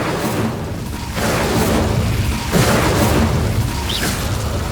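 Incendio fire spell blast in Hogwarts Legacy: loud rumbling whooshing bursts of flame, a couple of swelling booms in quick succession over dense noisy roar, close and full, no talk.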